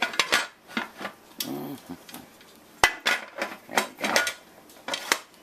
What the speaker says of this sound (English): You want to put a little lid on.